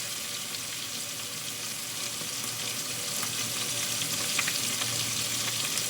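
Fish pieces frying in a pan of hot oil make a steady, bubbling sizzle that is moderately loud and continuous, growing slightly stronger toward the end.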